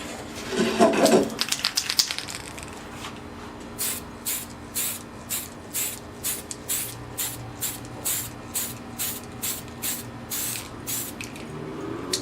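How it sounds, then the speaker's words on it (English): Spray can priming a model tank: after a brief noisy start, a steady series of short, sharp hissing bursts repeats at an even rhythm, close and fairly loud, each burst about half a second long. "You don't want to ever linger with the can and the color spraying in one spot."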